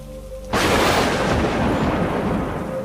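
A sudden cartoon thunder clap in a stormy night scene breaks in after a quiet moment, a loud, close crack that rolls into a long rumble and fades slowly.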